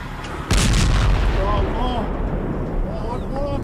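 Heavy gunfire in fighting between the IDF and Hamas in Gaza: a sudden loud boom, then sustained thunderous rumbling and crackle, with faint voices or whistling tones running underneath.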